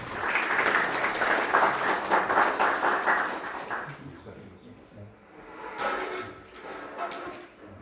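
Applause from an audience at a book concert about Paulo Freire, a dense burst of clapping for about four seconds that then thins out and rises briefly again, with faint talk.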